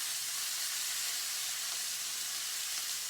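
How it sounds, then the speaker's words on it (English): Short ribs seasoned with kosher salt and black pepper sear in a hot pan, giving a steady, even sizzle and hiss that stays constant at moderate volume throughout, with no voices. "season them with kosher salt and black pepper, and then sear in the pan"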